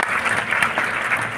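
Audience applause at a district magistrates' honour ceremony at Gyan Bhawan, Patna: steady, dense clapping from a large crowd, sustained and fairly loud throughout with no break.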